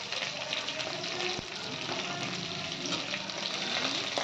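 Drumstick, eggplant, okra, carrot and pumpkin sauté in a pan for sambar, giving a steady, close, loud sizzle with scraping stir noises and one brief knock.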